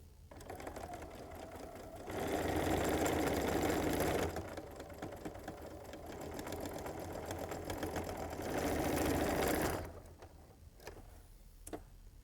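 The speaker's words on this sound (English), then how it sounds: "So let's sew this together and finish off this block." Sewing machine stitching a quarter-inch seam on a six-inch quilt block, running in two loud sustained bursts with quieter whirring and pauses between, then a few soft clicks as it stops.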